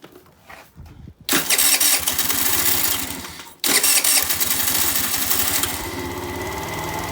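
A 50cc scooter engine, freshly cleaned carburetor, is cranked and starts with a loud rev, cuts briefly, restarts and then settles into a steady buzzing idle close by.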